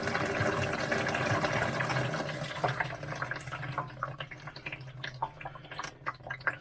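A rush of water pours through an RV sink drain during a gray water quick-disconnect setup, first as a steady gush, then as gurgles and scattered drips as it drains away.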